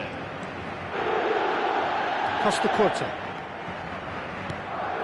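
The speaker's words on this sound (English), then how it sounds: "the crowd are reacting to that now" A stadium crowd roars and swells in a PS4 football video game, a broad steady wash of noise with a commentator talking over it.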